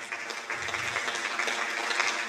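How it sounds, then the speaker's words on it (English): A church congregation applauds during a traditional Sunday service, a soft, dense wash of many hands clapping steadily at a distance, fairly quiet and even throughout. "give a round of applause for what this church has done this past week"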